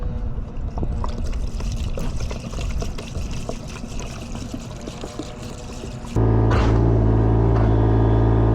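On a building site, a liquid is poured in beside a heavy block of clay, a rough continuous rush for several seconds, then giving way to a loud steady low hum.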